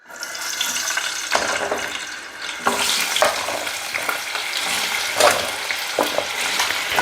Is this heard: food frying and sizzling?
yes